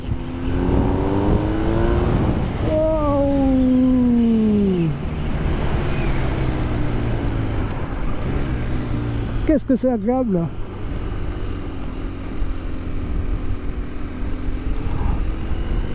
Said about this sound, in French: Vous l'entendez la sonorité de la Krapovic là? Il fait un son mélodieux.